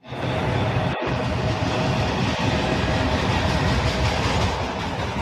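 A BNSF freight train, a California-bound westbound manifest on the Southern Transcon, rolls steadily past close by, a continuous loud rumble of rail cars with clickety-clack wheel noise throughout and no voices.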